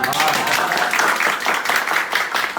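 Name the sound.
applause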